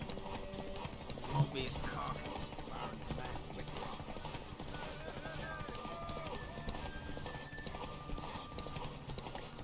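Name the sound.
horse galloping in The Witcher 3 video game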